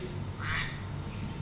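A duck-shaped kitchen timer alarm gives a single short nasal quack midway through, moderately loud over a quiet room hum during a lecture, with no talk at that moment.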